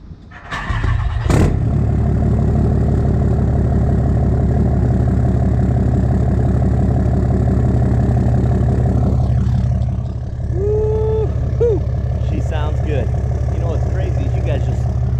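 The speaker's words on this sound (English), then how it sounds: "Should we do a cold start?" A car engine cold-starts with a sharp cranking burst, then settles into a loud, steady idle close by; a brief dip and faint squeaky sounds come near the end.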